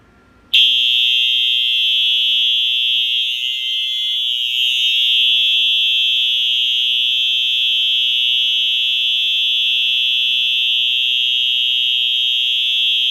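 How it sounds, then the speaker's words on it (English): An EHS EL1 fire alarm sounds on its continuous setting, a loud, steady high-pitched electronic tone that starts abruptly and holds unbroken for the rest of the clip, close and alone without speech. "this is on continuous, and the EHS EL1 will sound in 3,"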